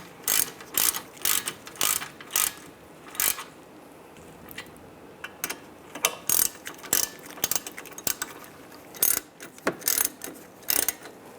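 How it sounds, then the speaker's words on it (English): Hand ratchet tightening caliper bracket bolts on a 1998–2010 Volkswagen Beetle, with repeated quick bursts of sharp clicking close by and short pauses between strokes. "Now you want to tighten these bolts down."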